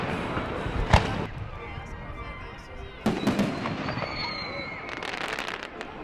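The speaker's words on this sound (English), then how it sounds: "Sox fans had post-game fireworks to cheer them up and welcome in the 4th" Loud sharp booms and crackling bursts of post-game fireworks at a ballpark, a big bang near the start and a cluster of explosions later, over steady crowd noise and chatter.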